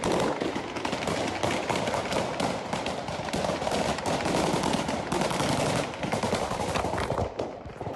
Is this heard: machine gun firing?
yes